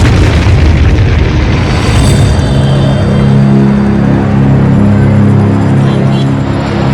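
Nuclear bomb explosions erupt as one loud, deep, continuous roaring rumble that fills the whole stretch, with low droning tones emerging partway through.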